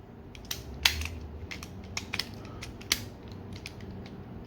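Plastic pieces of a Transformers Siege Astrotrain figure clicking as they are plugged in and folded, a series of sharp close snaps and small creaks spread irregularly through the clip.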